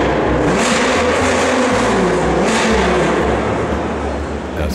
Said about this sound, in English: As the engine of the sleek Roadster was started up, visitors flocked into Hall 7 to see the red fireball.